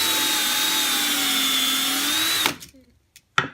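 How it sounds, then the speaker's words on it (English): Sandpaper wrapped around a wooden dowel, likely spun in a drill, grinds steadily against padauk or basswood for about two and a half seconds at close range before stopping abruptly, followed by a couple of short faint knocks. "I just wrapped a piece of sandpaper around this dowel right here"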